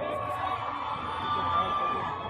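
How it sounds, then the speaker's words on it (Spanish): Women in the crowd at the Hell and Heaven metal festival in Mexico cheer and shout together in a dense, sustained roar that swells slightly midway. "El grito fuerte es de las metaleras de México"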